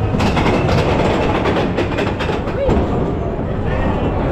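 The Seven Dwarfs roller coaster train at Magic Kingdom, Walt Disney World, rumbles and clatters steadily along its track, its cars rocking side to side, a continuous loud mechanical roar with faint voices mixed in.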